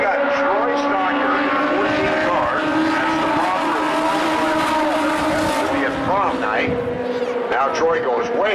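Legends race cars circle Tucson Speedway in a heat race, several engines droning and whining as they rise and fall past, under continuous announcer commentary.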